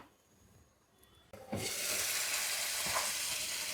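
Coriander and cumin spices hit hot oil in a pan of jackfruit seed curry, a quiet start giving way to a loud, steady sizzle that holds to the end, with a faint stir or two.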